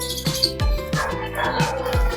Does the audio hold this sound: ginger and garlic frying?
no